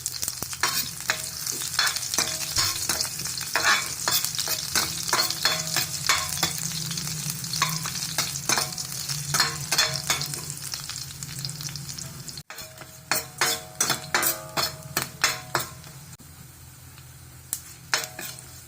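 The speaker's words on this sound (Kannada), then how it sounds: "ಜಜ್ಜಿರುವಂಥ ಬೆಳ್ಳುಳ್ಳಿನ ಹಾಕ್ತಾ ಇದ್ದೀವಿ. ಸ್ವಲ್ಪ ಚೆನ್ನಾಗಿ ಫ್ರೈ ಮಾಡ್ಕೊಳ್ಳೋಣ ಬೆಳ್ಳುಳ್ಳಿನ." Crushed garlic fries in a pan for a village-style wild mango gojju while a spoon stirs it, producing a constant sizzle broken by many quick, rhythmic scraping taps that become sharper and more separate toward the end.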